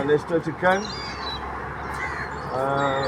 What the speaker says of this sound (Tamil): வெள்ளை காக்கெல்லாம் இருக்குங்க.